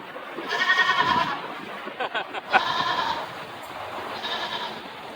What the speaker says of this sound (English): I thought I kept hearing a goat. Yeah, there's a goat.